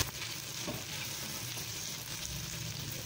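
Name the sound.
sabudana khichdi frying and being stirred in pan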